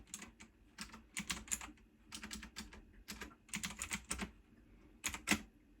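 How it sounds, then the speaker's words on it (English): Typing on a computer keyboard at night while writing, with quick irregular bursts of soft, close key clicks separated by short pauses and no voices. "Let me type something."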